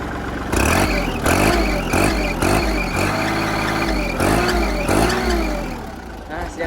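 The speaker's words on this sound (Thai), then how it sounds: "เดี๋ยวลองเร่งเครื่องให้เครื่องร้อนนิดนึงนะครับผม" Kubota L3008 tractor diesel engine revving up near and loud, rising and falling in repeated surges over several seconds, with a steady mechanical whir underneath.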